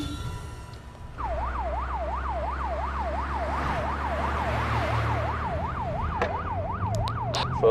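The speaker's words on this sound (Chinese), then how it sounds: "所有车辆关闭警报器。" Police vehicle sirens wail in a fast, regular rising-and-falling pattern, fairly close over a low engine rumble, sounding continuously for several seconds.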